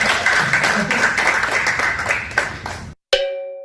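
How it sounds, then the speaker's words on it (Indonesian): Audience clapping at a Christian teaching session after a hypnosis-trick demonstration, a dense steady patter for about three seconds before an abrupt cut, then a short ringing chime-like tone. "Oke, tepuk tangan ya."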